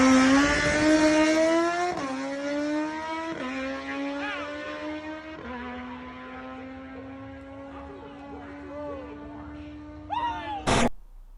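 A race car accelerates hard and shifts up through several gears, its engine tone climbing then stepping down with each shift, loud and close, ending in a brief sharp burst.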